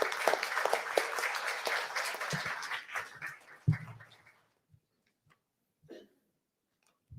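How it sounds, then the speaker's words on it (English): Applause for the Chief Minister of Penang at a book launch, a few seconds of dense clapping that thins out into scattered single claps and then near silence. "Ladies and gentlemen, a big round of applause for CM."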